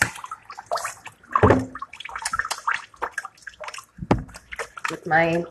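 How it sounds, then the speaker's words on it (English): Hands are washed with soap under running water from a tap, splashing and dripping in short bursts beneath ongoing talk. "Wash my hands."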